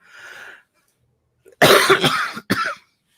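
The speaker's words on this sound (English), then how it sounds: "here comes my obligatory per episode cough." A single loud, harsh cough close by, followed by a shorter second burst, after a brief faint breathy sound and a pause.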